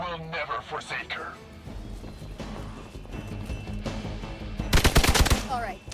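Bursts of rapid gunfire in the video game Marvel's Midnight Suns, a dense rattling volley near the end, with game sounds and talk throughout.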